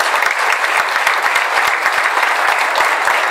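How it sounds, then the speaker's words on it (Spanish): Attendees at a boxing press conference with Oscar De La Hoya applaud a sponsor, loud, close, steady clapping from a room full of people, with individual claps standing out in the sustained wash. "Un aplauso, por favor."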